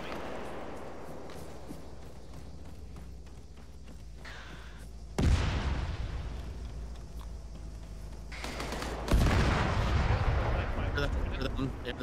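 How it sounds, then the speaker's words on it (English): Heavy gunshots boom from a hillside in an ARMA 3 battle, two big blasts landing several seconds apart over low rumbling ambience, with voices talking in the background. "Somebody shooting from the hill, I think."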